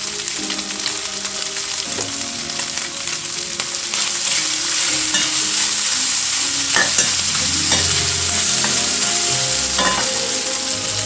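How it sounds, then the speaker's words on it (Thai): Pork stir-fries with sliced chillies and garlic in a loud, continuous sizzle, with a spatula scraping and knocking against the pan at irregular intervals and no talk. "ใส่ พริกที่หนูซอยกระเทียมลงไปเลย ผัดง่ายๆนะคะ"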